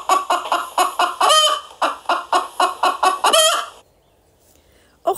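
Hens and a rooster cluck in a rapid rhythmic series of loud, close calls with a couple of drawn-out crowing-like notes, then stop, leaving near silence before one more brief cluck at the end.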